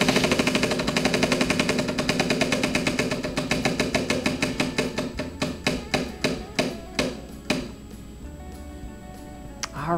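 Game show prize wheel spinning: a rapid series of loud ratchet clicks that gradually slow and space out as the wheel winds down, with people talking faintly underneath.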